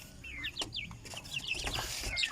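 Native chickens cluck and chirp in short, irregular calls close by over steady farmyard background noise, with no talking.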